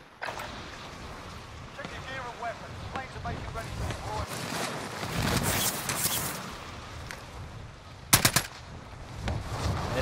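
Gunfire from a new pistol in a video game crackles in short bursts, one sharp volley standing out, under a voice talking over busy, windy game noise.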